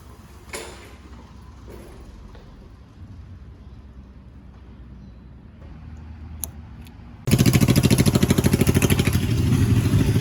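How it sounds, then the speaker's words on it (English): A Honda CB350 cafe racer motorcycle engine fires up after some quiet clattering and then idles loudly and close with a fast, steady, slightly high pulse while warming up. "Honda's warming up now. It's idling a little bit high in the beginning"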